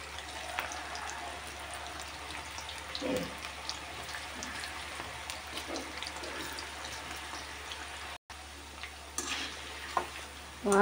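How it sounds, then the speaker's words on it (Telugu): Prawn pakodi frying in hot oil at medium heat, a steady broad sizzle running throughout with occasional stirring clatters and faint background noise. "నూనె బాగా కాగాక మీడియంలోనే వేసుకోవాలి. ఇప్పుడు పకోడీలు వేసుకుందాం."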